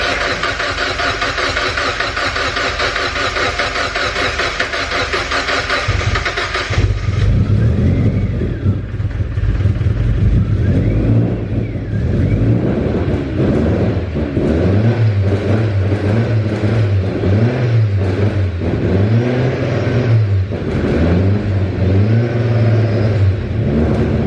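Turbocharged Mazda MX5 engine firing up for the first time, a loud steady start giving way to repeated throttle blips that rise and fall in rhythmic revving, close to the mic, with faint voices underneath.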